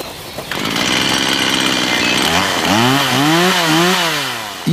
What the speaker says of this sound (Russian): Их совсем не интересует звук электропилы.